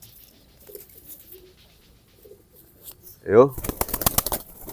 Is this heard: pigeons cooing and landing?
yes